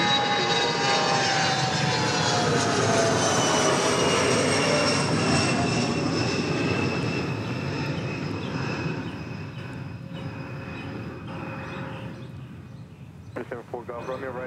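An airplane takes off at Dallas Love Field with a loud, sustained engine roar that builds then slowly fades as it climbs away, heard from nearby alongside occasional voices.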